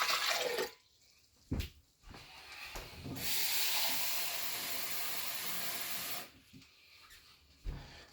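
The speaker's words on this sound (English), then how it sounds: "Okay, so there's our 2 cups water." Water pours into a single one-cup measuring cup in a kitchen, a steady rushing stream lasting a few seconds with brief clinks and pauses around it, close and fairly loud.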